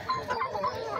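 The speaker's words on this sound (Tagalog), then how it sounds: "Napakaganda ng mga manok." Rhode Island Red chickens, a small flock of three roosters and four hens, cluck and squabble nearby in a quick burst of short clucks over faint background noise.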